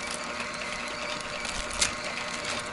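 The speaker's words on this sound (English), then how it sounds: "you can really hear the juicer is really not that loud" A single-auger juicer juicing carrots: a steady mechanical motor whir runs continuously at moderate volume, with a brief sharper click partway through.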